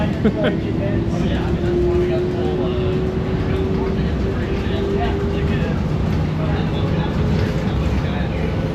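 Seattle Center Monorail ride heard from inside the car: a steady loud rumbling drone of the train in motion, with a faint rising whine and no talk.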